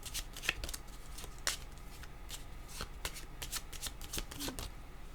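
Close, soft riffling and slapping of a deck of cards being shuffled for a card reading, a series of brisk irregular flicks over a quiet room.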